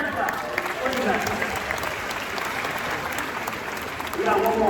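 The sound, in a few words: applause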